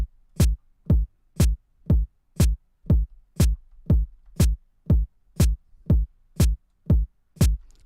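A kick drum and snare drum play together in a steady, evenly spaced pattern, thirteen sharp punchy hits over about eight seconds, loud and close with no talking.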